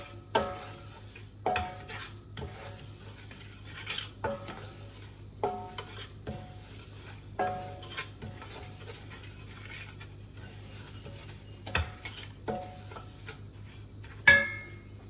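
Salt stirred by hand into lemon pickle, with a spoon or ladle scraping and clinking against a metal pot in repeated strokes close by, under a low steady hum and no talking.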